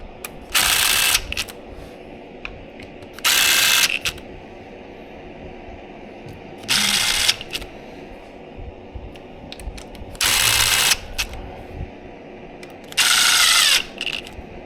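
A power driver runs down clutch cover bolts on a DRZ400SM engine during a rebuild in five short, loud whirring bursts spaced a few seconds apart, with quiet pauses and faint clinks between them.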